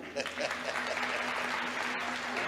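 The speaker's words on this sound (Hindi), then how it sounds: "दरबार के लिए एक जोरदार ताली।" Devotees at a Karauli Sarkar spiritual darbar give a loud, sustained round of applause, dense and steady throughout with a faint murmur of voices underneath.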